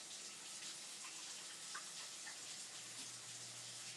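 A tap runs while hands are washed, a soft, steady stream of water with faint splashes, quiet and somewhat distant, alone with no talking.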